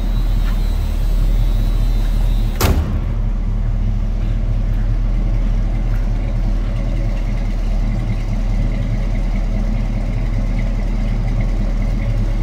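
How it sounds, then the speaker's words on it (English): A 1973 Mercury Cougar XR7 two-door hardtop runs steadily close by, its engine a deep, even drone for the whole stretch, broken once by a brief sharp knock early on, with no talking. "Good sounding car, no doubt."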